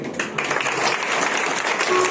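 Audience clapping at an entrepreneur's beginner training session, a steady dense patter of many hands filling the whole stretch, fairly loud and close with no talk over it.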